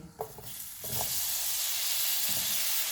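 A peach cooks in a frying pan with butter and sugar. A few soft knocks come first, then a strong, steady sizzling hiss holds to the end.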